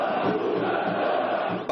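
Football crowd noise from a São Paulo home match against Goiás at 2-0 down, a steady dense roar of many voices that carries jeers and booing, loud and continuous from start to end with no single voice standing out.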